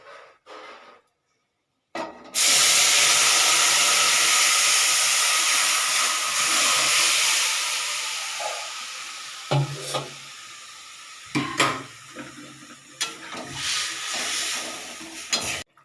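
Boiled broth poured into a hot pan of sautéing fish curry, a sudden loud hissing sizzle that bursts in after a brief quiet, then slowly eases, with clanks of a utensil stirring near the end.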